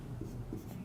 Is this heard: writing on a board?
yes